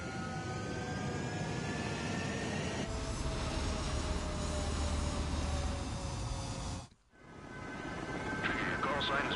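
Bomber aircraft in a video game approach with a steady, loud jet-engine roar. The roar holds for several seconds, cuts out briefly and then swells back in with a faint tonal whine.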